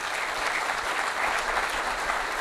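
Sustained audience applause after speeches by the Congolese head of state at a public administration ceremony before diplomas are handed out, a dense, steady wash of many hands clapping throughout with no voices on top.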